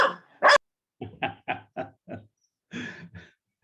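A big black dog barks in short bursts: two sharp barks, then five quick evenly spaced woofs and a final pair after a pause, loud and close in a quiet indoor room with no talk.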